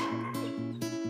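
A dog left alone at home barks and whimpers in a tight, continuous run of yips and whines, loud and close with no pause.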